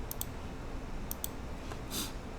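A computer mouse clicking in SketchUp: several crisp, quiet clicks close by, some in quick pairs, against faint room hiss.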